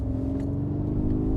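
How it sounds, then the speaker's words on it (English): Mercedes EQG electric G-Wagen playing its artificial V8-style G-Roar sound as it accelerates, a steady low droning hum held close and even throughout, with no talking. "when you boot it, it actually makes like a V8 noise. It's called G-Roar"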